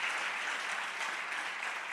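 A crowd claps in steady, dense applause that holds at an even level throughout, with no voices heard.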